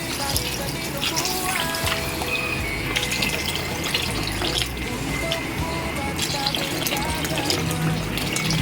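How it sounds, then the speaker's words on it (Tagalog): Water poured into a cooking dish to top up a home-cooked Filipino meal, a steady splashing trickle running throughout at close range, with faint kitchen clatter behind. "Pero kulang siya, kaya dadagdagan natin ng tubig."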